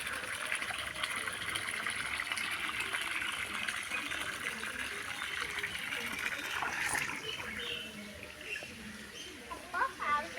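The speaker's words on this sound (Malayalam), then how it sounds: "ഈ ഓസ് കുത്തി വെള്ളം നിറച്ച് വെള്ളം കയറി വരും" A garden hose pours water into a swimming pool with a steady, close gushing hiss. Faint birdsong sits in the background, and a few soft knocks come near the end.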